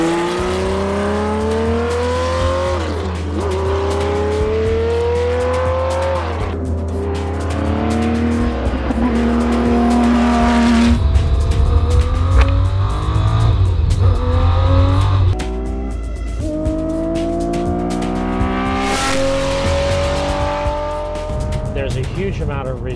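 Porsche 917 race car on a track, its engine revving loud and continuous with rising and falling pitch sweeps and part-throttle surging, close to the listener; a voice speaks over the engine noise.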